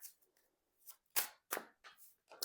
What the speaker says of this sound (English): I haven't finished shuffling it, but I will take that card.